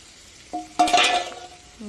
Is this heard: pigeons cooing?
no